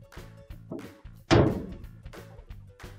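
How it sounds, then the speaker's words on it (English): A GE dryer door swings shut with one solid thunk and a short rattling decay, set among quieter handling knocks before and after. "Now we can close our dryer door."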